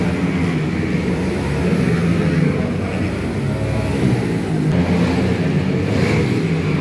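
Mini GP pocket bikes race with a continuous loud, buzzing engine drone that swells slightly as machines pass, steady throughout with no clear pauses.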